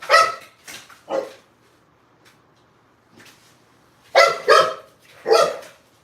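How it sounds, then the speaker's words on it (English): Small dog barking in short bursts of two or three sharp yaps separated by quiet pauses, close and loud, with no talking over it. "You see this beautiful little dog right here?"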